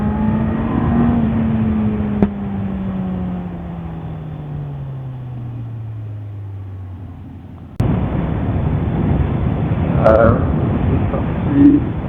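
A QJ Motor SRK 800 RR motorcycle engine on hot open roads drones steadily with falling pitch as it eases off, then cuts to louder wind-buffeted riding noise near the end; no one talks over it.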